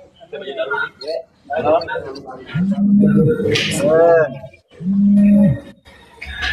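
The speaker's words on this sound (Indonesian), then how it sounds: "Oh sapi" A cow moos twice, each a long, close, droning call, with people talking between and around the moos.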